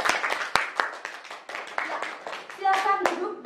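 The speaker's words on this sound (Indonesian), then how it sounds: "Boleh dong beri tepuk tangannya" An audience at a high school panel discussion claps to welcome a doctor guest, a scattered round of hand claps mixed with overlapping voices and a child's speech.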